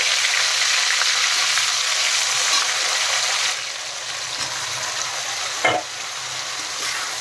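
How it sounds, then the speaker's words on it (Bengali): Boiled jackfruit frying in a pan, a dense steady sizzle that drops slightly partway through, with a single clunk of stirring near the end. "এখন আমি সেদ্ধ করা কাঁঠাল ভেজে নেব"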